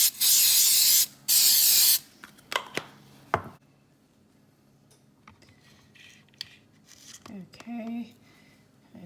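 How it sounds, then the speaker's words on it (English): Coconut oil cooking spray hissed onto a Dash pancake maker in two loud bursts about a second each, close up, followed by quieter clinks and handling sounds while a person talks. "I'm gonna go ahead and spray the dash with some coconut oil."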